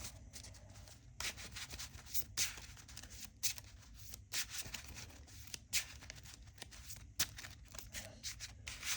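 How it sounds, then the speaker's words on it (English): Soft, papery riffling and rubbing of playing cards being shuffled into a Marvel Champions card game encounter deck, in repeated bursts with brief pauses, close and fairly quiet. "so we're shuffling this into the encounter deck"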